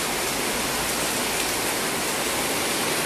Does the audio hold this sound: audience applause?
no